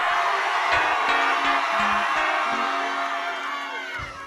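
A church congregation at a prayer service ululates and cheers, high trilling whoops over a lively crowd roar, loud and continuous, easing off slightly toward the end.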